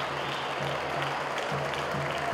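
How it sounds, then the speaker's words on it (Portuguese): A stadium crowd at a Ceará state championship football match applauds at length in tribute to Pelé, a steady distant wash of clapping under faint commentary. "um minuto de aplauso aqui para o Pelé"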